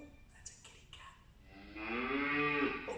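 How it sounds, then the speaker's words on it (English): Recorded cow mooing played back for a children's class, one long drawn-out moo rising in the second half after quieter sounds, fairly faint overall. "Oh, that's a cow."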